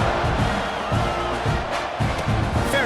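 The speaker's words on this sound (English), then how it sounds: "this crowd is buzzing after that last score" A stadium crowd at a Gators college football game buzzes steadily after a score, a dense continuous roar of many voices with no single cheer standing out.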